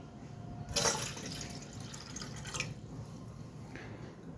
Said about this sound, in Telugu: కొంచెం అందులో ఒక 3 గ్లాసుల వాటర్ పోసుకుందాము